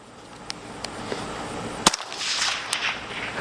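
A single suppressed 5.56 rifle shot from a 14.5-inch barrel fitted with an LMT Ion K suppressor gives one sharp, close crack. A few faint clicks of handling and a brief rising hiss follow.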